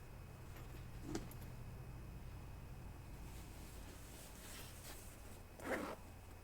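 A zipper on a cue case pocket is pulled open in a few short rasping strokes, close and fairly quiet against a steady low background hum, with no talking.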